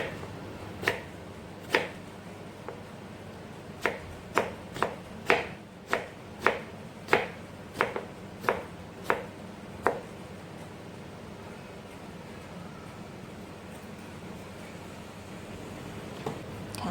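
Crisp, sharp knife chops through a fresh vegetable on a board while making kimchi, about a dozen evenly spaced crunchy cuts, then quiet room noise with no talking.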